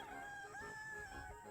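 A rooster crows inside a chicken coop, one drawn-out, somewhat distant call rising and falling over a low background rumble.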